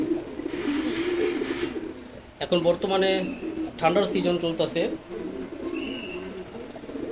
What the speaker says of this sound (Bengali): লাল চুল্লি আমার খুব পছন্দের একটা কবুতর, নর কবুতর